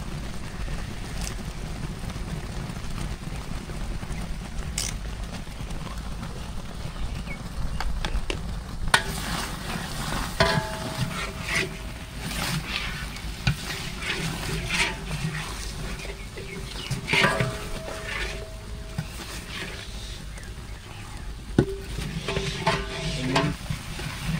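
Date palm jaggery boiling in an open pan while being stirred, steady bubbling sizzle with scraping stirs and occasional sharp knocks throughout, heard outdoors at close range.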